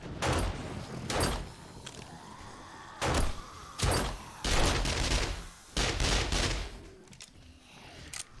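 Gunfire in the video game 7 Days to Die: several sharp, loud bursts of shots in irregular clusters, some brief and some sustained, with quieter stretches between them.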